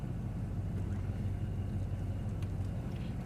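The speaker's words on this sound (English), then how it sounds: "Idle's great with the stop converter." A Chevrolet Silverado with an aftermarket camshaft, headers, cold-air intake, dyno tune and stall converter idles steadily, giving a continuous low, throbbing rumble at moderate volume with no revving.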